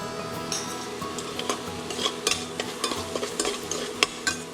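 Onions sautéing with salt and turmeric in a pan for prawn pulao, a steady sizzle with repeated scraping and clinking stirs of a utensil, close and fairly loud with no talking.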